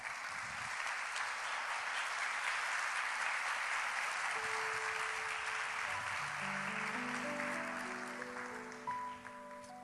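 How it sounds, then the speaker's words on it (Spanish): A church congregation applauds in a steady, sustained wash of clapping, and sustained musical tones rise near the end. "Así es que denle un aplauso al Señor."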